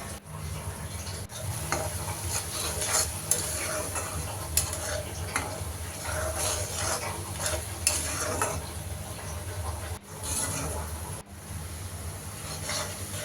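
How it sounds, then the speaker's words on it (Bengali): Spices with salt and ginger-garlic paste being fried in a pan, giving a continuous close sizzle with intermittent stirring and scraping of a spoon, steady throughout with no talking. "তো মশলাটা কষানো হয়ে গেল"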